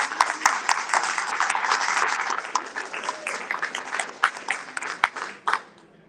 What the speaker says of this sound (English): let's give a big Applause to her and to CARE